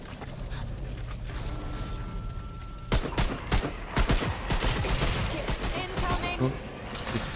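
Gunfire in the video game Remnant II, a burst of rapid sharp shots starting after a quieter stretch, fairly loud and clustered, with speech mixed in.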